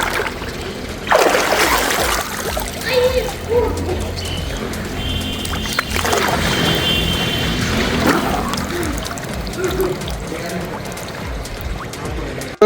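Water sounds of someone taking a dip in an outdoor water-park swimming pool, with splashing and sloshing bursts, a dripping trickle, and people talking nearby over the busy poolside ambience.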